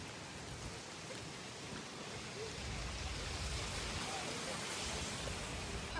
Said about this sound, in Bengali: আবার এই যে বৃষ্টিতে সব ভিজে যাবে